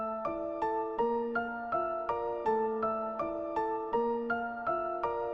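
A piano melody for a rap-style beat plays steady repeated chords with a shifting top line, each note struck evenly and decaying quickly, clear and alone.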